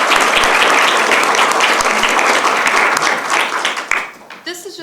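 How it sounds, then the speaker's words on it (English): Dense applause fills a school board meeting room, steady and loud for about four seconds before thinning out into scattered claps and a few trailing voices. "and they deserve a round of applause."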